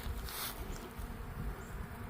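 Faint, steady buzzing of many bees around a pollen feeder in winter, a soft continuous drone outdoors with no voices.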